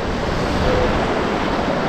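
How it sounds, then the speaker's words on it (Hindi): Mountain river near Chitkul village rushing steadily, a loud, continuous broadband roar with wind buffeting the microphone and no speech. "ये देखो नदी"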